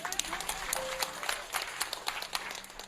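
Audience applause during a religious talk, a steady patter of clapping hands from a crowd lasting a few seconds.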